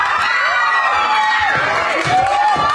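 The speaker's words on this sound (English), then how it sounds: "the not guilty verdict rang out, met with cheers and applause" A courtroom crowd erupts in loud, continuous cheering and whooping after a not guilty verdict for a hip-hop star, with shouting voices layered densely throughout.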